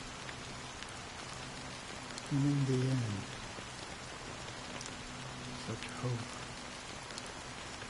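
Steady fine drizzle of black rain falling over the sea, a soft continuous hiss that runs throughout, while someone speaks briefly partway through.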